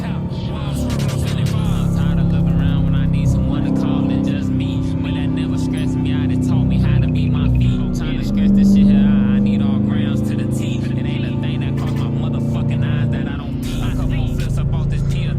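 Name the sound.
5.7L Dodge Challenger R/T downshifting in traffic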